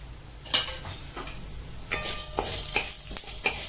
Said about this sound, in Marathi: ही दोन चमचे चणा डाळ घेतली तीच भाजून घेते थोडंसं तेल टाकून चांगले खमंग भाजायचे